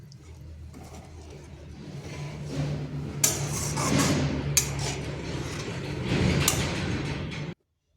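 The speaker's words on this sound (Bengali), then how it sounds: "এরপর এখানে দিয়ে দিচ্ছি জল। জলটা অবশ্যই গরম জল দেবেন" Hot water poured into a wok of cooked spices in oil for an egg curry, a swelling hiss and bubbling sizzle with a few sharp metallic clinks of a utensil, close and moderately loud, cutting off abruptly at the end.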